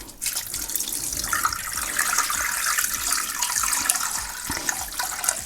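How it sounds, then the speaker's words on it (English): Water is poured steadily into a pot until it just covers pieces of chicken. The gushing splash is loud and continuous for several seconds, with no talking over it. "You basically need to add water just above the chicken like this"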